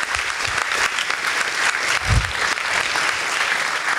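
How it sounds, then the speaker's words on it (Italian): An audience at a Linux Day 2023 talk applauds the organisers of the event, a steady, full burst of many hands clapping close by that fills the whole stretch without letting up. "regaliamoci innanzitutto un bel applauso per i ragazzi del Free Circle che hanno organizzato"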